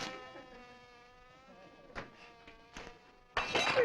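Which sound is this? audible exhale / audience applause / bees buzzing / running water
bees buzzing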